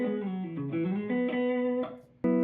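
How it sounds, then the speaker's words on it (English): An electric guitar fitted with new Fender AlNiCo 2 Vintage Noiseless pickups, played on the neck pickup through an amp, rings out a short, warm melodic run of sustained notes, then a fresh strum at the end. "New pickups plugged into same amp you heard before. That's the sound of the neck pickup."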